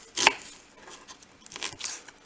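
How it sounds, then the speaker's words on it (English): A kitchen knife chops a strong onion on a cutting board, one sharp firm stroke followed by several lighter, scattered cuts close by with no talking. "you want to cut that up really tight because it's very strong. It's a strong onion."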